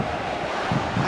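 Stadium crowd noise in the PES 2025 football game, a continuous broad roar of fans with swelling chants, loud and filling the whole moment without any talk over it.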